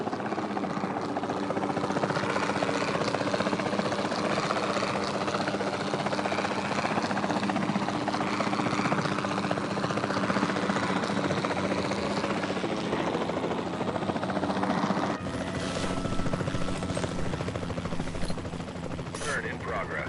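A helicopter flying in the video game Jurassic World Evolution 2 gives a steady, dense rotor and engine drone for the whole stretch, with voices talking over it now and then.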